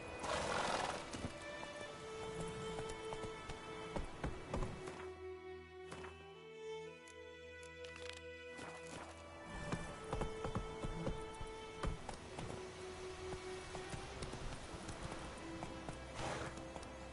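Roach the horse gallops in Witcher 3 with steady clip-clop hoofbeats and occasional whinnies over a busy game soundscape with music and ambient tones, no talk.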